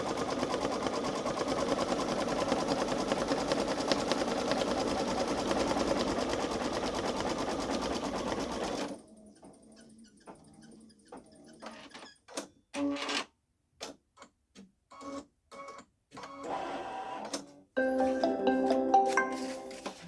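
A Babylock Solaris Vision Journey embroidery machine stitching a patch, heard as a fast, steady mechanical chatter for several seconds, then breaking into short stop-start bursts of stitching separated by near silence.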